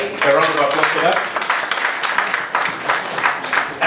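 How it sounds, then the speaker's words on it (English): Applause from an audience at a power-sector policy dialogue, a fairly dense burst of clapping that rises and thins over a few seconds, with a voice heard briefly near the start. "And a round of applause for that."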